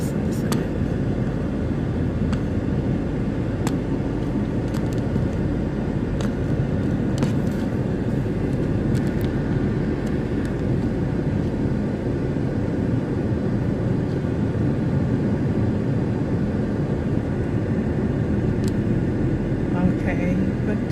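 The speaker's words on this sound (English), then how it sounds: "just a little bit of traffic" City street traffic drones through Wandegeya in Kampala, a dense, constant rumble of engines with occasional sharp sounds cutting through. It holds at an even level throughout, with no clear voices.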